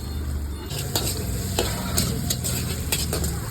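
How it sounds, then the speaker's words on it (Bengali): Vegetable fried rice with beans, carrot and onion cooks in a street-stall pan, a loud continuous sizzle punctuated by sharp metallic spatula clangs and scrapes at an uneven pace, close by with no voices. "ফ্রাইড রাইস, এখানে সমস্ত ভেজিস দিয়ে দিয়েছো, তাই তো? বিনস আর গাজর।"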